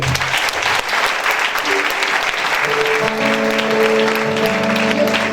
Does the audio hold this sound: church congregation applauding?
yes